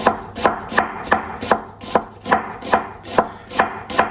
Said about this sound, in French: on émince finement